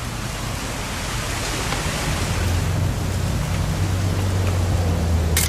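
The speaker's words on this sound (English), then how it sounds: "It's gonna rain the whole weekend," Rain falls in the video game What Remains of Edith Finch as a loud, dense, continuous hiss with a low rumble underneath. It stays steady and close throughout, with no talking.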